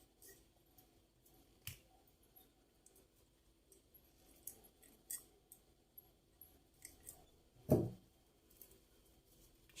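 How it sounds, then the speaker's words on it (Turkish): Scissors snip a wire-wrapped branch while a navy-flowered crown is being assembled: faint close clicks and small snips run throughout, then one sharper, louder cut near the end, with no voices. "Şu dallardan bir tanesine telimi doladım ve buradan kesiyorum."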